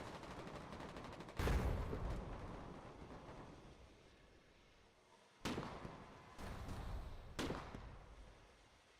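Rocket artillery in the Foxhole 1.0 war game fires in a few loud, broadband launch bursts, each fading into a long rumbling tail, with spaced booms following later.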